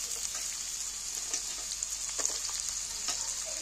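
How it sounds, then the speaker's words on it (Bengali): Chopped carrots fry in oil with a soft, even crackling sizzle, close and fairly quiet, broken by brief spattering pops and faint utensil touches. "এবার এই তেলের মধ্যে আমি কাটা গাজরগুলো তুলে দিচ্ছি।"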